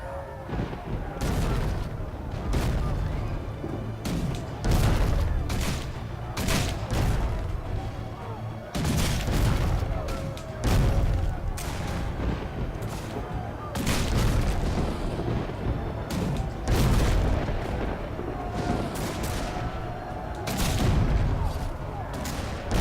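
Repeated heavy cannon booms in the video game Risen 3: Titan Lords fire in irregular succession over a constant rumbling din, with voices talking underneath.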